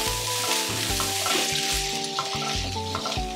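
Green onion frying with vegetables in a hot pan, a loud close sizzle broken by rhythmic tossing and scraping strokes over a low steady hum.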